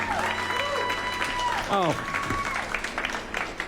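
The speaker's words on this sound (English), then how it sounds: "such a long clap" A studio town hall audience applauds after a live performance, steady clapping that runs throughout at moderate level, while voices talk and exclaim over it.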